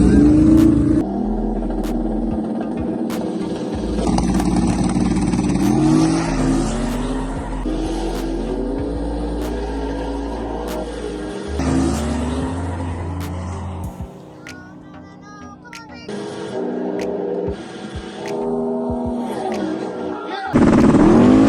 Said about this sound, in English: Should be a drag race all the way down through there.